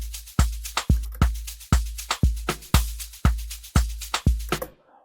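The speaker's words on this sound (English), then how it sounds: "And then the clap." Sharp, bright clap hits, some doubled, layer over a steady booming kick and snare in an FL Studio Afro Tech beat, forming a loud, busy looping pattern that stops suddenly before a brief quiet tail.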